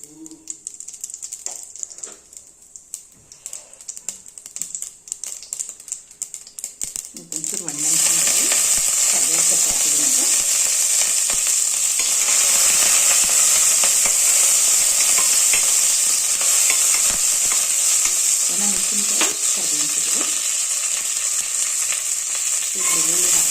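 Mustard seeds hit hot oil in a pan and burst into a loud, dense, continuous crackling sizzle partway through, after quieter sparse ticks, with a voice talking over the frying at times.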